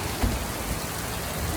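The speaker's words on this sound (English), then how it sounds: "It's raining." Rain falls during a rainstorm, a brief steady wash of hissing patter with a faint low thump, heard alone.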